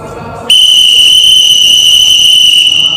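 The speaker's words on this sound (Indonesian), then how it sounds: "Tiupannya peluit sekali, panjang dan bertenaga. Prit, seperti itu." One long, shrill police whistle blast starts abruptly after a brief moment of low background noise and holds at full strength to the end.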